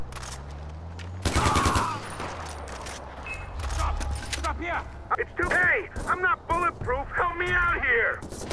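Sniper rifle fire in the video game Far Cry 4 gives a loud burst of sharp shots early on. Players then talk over lighter game noise.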